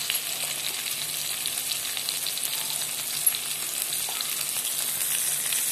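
Turmeric, asafoetida and green chillies fry in hot oil while being stirred, giving a steady, dense hiss that runs unbroken and fairly loud throughout, with no talk.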